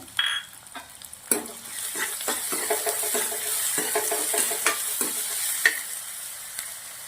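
Thinly sliced onion frying in a pan with ginger-chili-garlic paste gives a close crackling sizzle with frequent spoon scrapes and knocks against the pan, continuous throughout, with no talking.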